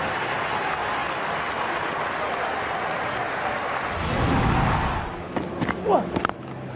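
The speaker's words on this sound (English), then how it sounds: "They've done a lot of clapping." At a Cape Town Test cricket match, a stadium crowd applauds a batsman's century with a broad, distant wash of clapping. The clapping swells briefly, then gives way to scattered nearer noises.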